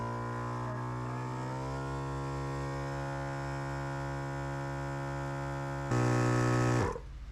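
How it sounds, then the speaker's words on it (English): A portable four-wheel tire inflator compressor airs up the large tires of a Ford Bronco, giving a steady, loud, close mechanical hum. The hum shifts and grows louder near the end before cutting down. "And I'm going to go ahead and start the compressor."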